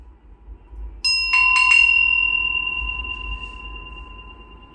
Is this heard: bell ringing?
yes